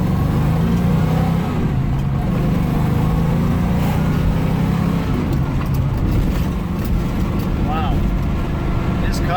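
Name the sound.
Ford Mustang Mach 1 with 351 Cleveland engine accelerating from a stop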